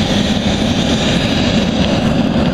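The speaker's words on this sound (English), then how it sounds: "I just filled it up, it's roaring right now" Homemade tatara furnace for smelting iron into steel roars steadily, a loud, continuous rushing blast of fire and air with no pauses, close by and filling the whole span.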